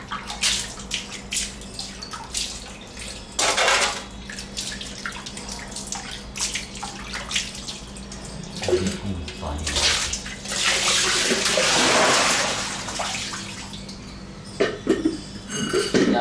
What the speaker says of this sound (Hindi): आगे कहीं जो है कोई रुकावट है इसमें, धीरे धीरे पानी जाता है।